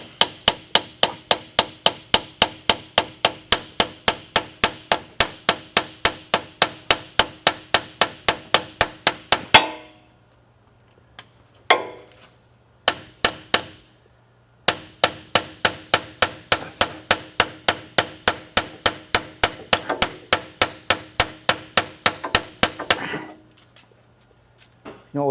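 Steel hammer pounding a metal part on a Toyota during a repair, delivered as long runs of rapid, evenly spaced sharp clanging strikes, loud and close, broken by a short pause with a few scattered hits before the pounding resumes.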